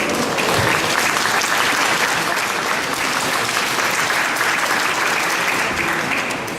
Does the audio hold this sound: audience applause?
yes